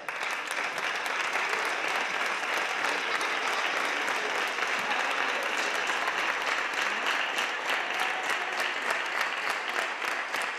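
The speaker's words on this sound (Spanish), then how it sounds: "así que pido un aplauso para ellos." A crowd at a religious pilgrimage gathering breaks into sustained applause, a continuous even roar of many hands clapping at a steady level from start to finish.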